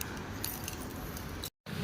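Keys for a Suzuki Raider 150 Fi motorcycle jangle and clink steadily up close for about a second and a half, then stop briefly before rattling again, with no talk over them.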